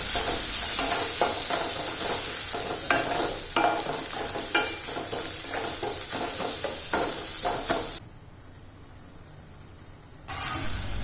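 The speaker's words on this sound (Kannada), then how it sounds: "ಈಗ ನಾನು ಹೆಚ್ಚಿರುವಂಥ ಸಣ್ಣಕ್ಕೆ ಹೆಚ್ಚಿರುವಂತಹ ಟೊಮ್ಯಾಟೊನ ಹಾಕಿ ಈಗ ಒಂದು ತಟ್ಟೆ ಮುಚ್ಚಿಟ್ಟು ಇದನ್ನು ಬೇಗನೆ ಬೇಯಿಸ್ಕೊತಾ ಇದ್ದೀನಿ" Finely chopped tomatoes cooking in a pan under a plate used as a lid, a close frying sizzle with rhythmic stirring scrapes, then a quieter stretch before the hiss returns.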